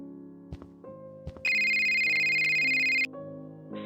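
Phone ringtone in a video game, a bright electronic ring sounding for about a second and a half amid softer tonal background music, with no talk.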